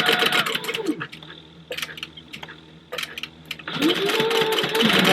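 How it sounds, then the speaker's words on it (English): A sewing machine back stitching a leather wallet panel, bursts of fast rhythmic needle chatter separated by brief pauses and clicks, close and clear, with faint talk in the background. "But I'm back stitching."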